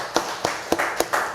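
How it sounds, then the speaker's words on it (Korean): A church congregation claps to welcome newcomers at a Sunday service, six evenly spaced, fairly close claps in a steady rhythm over about a second and a half. "우리 박수로 그래도 환영하십시다"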